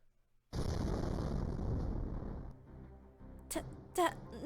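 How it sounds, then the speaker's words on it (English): An explosion in the Fate/Grand Order video game, a sudden heavy blast that rumbles on for about two seconds and then fades, followed by short sharp game effects. "sound like an explosion."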